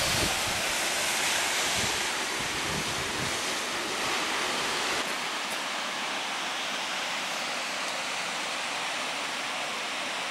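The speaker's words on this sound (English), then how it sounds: "You're back on the waterfall." Continuous broadband roar of falling water, loud and steady throughout, with a slight drop in low rumble halfway; no one speaks.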